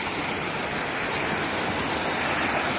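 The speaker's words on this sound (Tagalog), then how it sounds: "Parang mini falls na siya." Spring water spills steadily over a small waterfall beneath a little footbridge, a constant broadband rush heard close and fairly loud, alone without talk.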